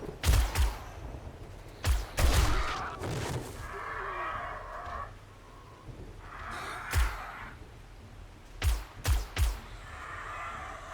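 Armor-piercing rounds fired from a gun in the video game 7 Days to Die, several sharp separate shots in short bursts, loud and close, with quieter ambient game noise between them.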